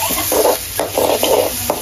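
Onions and mustard seeds fry in a pan, a constant loud sizzle broken by repeated bursts of stirring and scraping, roughly four strokes in under two seconds, with no voices.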